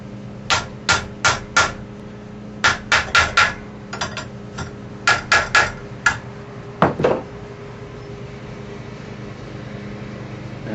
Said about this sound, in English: You want to just kind of tap around this thing until it starts to go in.